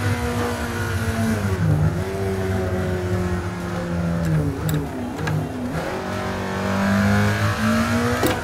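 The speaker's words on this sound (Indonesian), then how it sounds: "Susah ternyata bawa angkot ya di jalan sambil ngebut" An angkot minibus speeds along a road in a video game, its engine droning and rising and falling in pitch as it shifts and accelerates, loud and steady.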